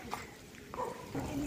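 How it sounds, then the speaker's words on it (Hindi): Faint dog barks and whimpers in the background, with a voice speaking close by. "वहाँ पे कुत्ते भौंक रहे हैं"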